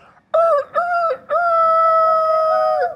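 A rooster crows loudly up close: two short clipped notes followed by a long sustained cock-a-doodle-doo call.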